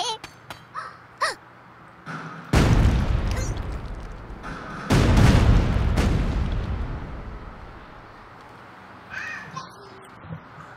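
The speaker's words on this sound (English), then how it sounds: "Let's give him a cluster bomb then." Cluster bomb in the Worms Ultimate Mayhem video game: two loud, deep booming explosions in quick succession, each rumbling out over a few seconds, with crow-like game sound effects around them.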